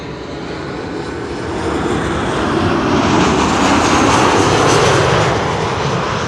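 Transavia airliner in Sunweb livery arriving at Schiphol after a flight from Karpathos, Greece: a loud, steady jet engine roar that swells slightly and holds, broad and rushing with no talk over it.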